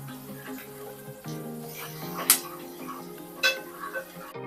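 Thecha and curry leaves being stirred and sautéed in a pan, a spoon scraping and clinking against metal in a few sharp knocks over a soft sizzle, with a low droning tone underneath.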